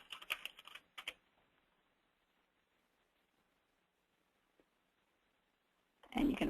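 Quick bursts of keystrokes on a computer keyboard entering a folder name, a rapid cluster of clicks at the start, a short pause, a few more taps, then quiet before a louder patch at the end.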